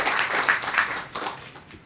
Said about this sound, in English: He didn't hear the applause, so we have to repeat it.